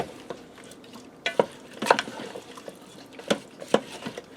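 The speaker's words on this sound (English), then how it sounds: "And I'm just going to give this a quick stir." Potato taco casserole with cheese being stirred in a pressure cooker pot: several scraping, clinking strokes spaced irregularly over a soft background, close and moderately loud, with no talking.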